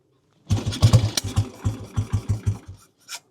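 A cold 1960 Norton Model 50 350cc single-cylinder motorcycle engine catches with a quick, uneven burst of about a dozen close, loud firing pops, sputters, and dies out within three seconds.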